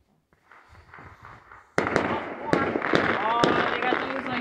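New Year's night fireworks crack and pop in a rapid series of loud bursts, starting faint and distant before a sharp close blast sets off continuous crackling, with people talking underneath.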